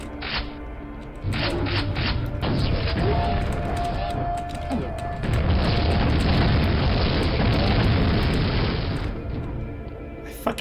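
Grenade blasts in a video game erupt into a long, loud rumbling roar that holds steady for several seconds, with sharp crackling pops scattered over it before it cuts off near the end.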